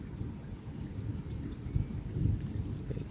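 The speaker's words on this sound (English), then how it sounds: "You can hear the thunder." Thunderstorm over Ocean City bay heard from a fifth-floor condo balcony: soft rain hiss with a faint, distant thunder rumble swelling midway, low and steady throughout.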